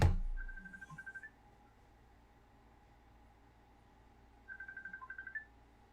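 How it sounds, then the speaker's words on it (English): A phone ringing during a NASCAR Heat 5 racing game session, two short bursts of warbling electronic tone several seconds apart, faint beneath a steady low background hum. "My phone is ringing."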